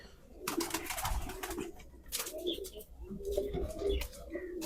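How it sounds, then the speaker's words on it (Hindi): Soft, low coos of black-faced pigeons repeat close by, mixed with rustling and flapping noises from the birds moving around. "ये काले मुंह वाला कबूतर है जो इसके साथ लगाया है"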